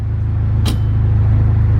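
A car engine idles steadily with a low, even rumble, running lean on E85 fuel in a vehicle not built for it, air-fuel ratio climbing toward 18, with a brief hiss near the start.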